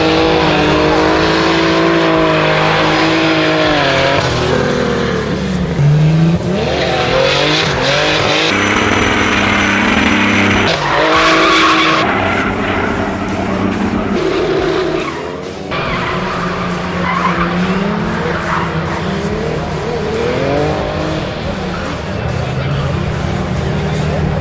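A car drifting on a track during a marriage-proposal drift show, its engine roaring and revving continuously while the tires skid and squeal, loud and close throughout with a voice talking over it.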